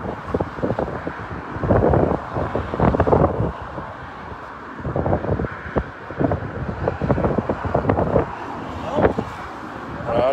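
Gusty wind roars steadily against a helicopter microphone in flight over a harbor, where a huge vessel is heading into port, with rising and falling buffeting throughout.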